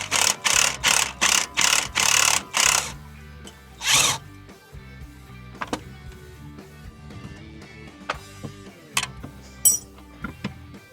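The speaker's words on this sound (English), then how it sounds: "We're going to use an impact and a wrench." A handful of quick, loud buzzing bursts from an impact wrench hammer at an 18 mm shock bolt on a Jeep Wrangler JL, followed by quieter metallic clicks and taps as the bolt breaks loose.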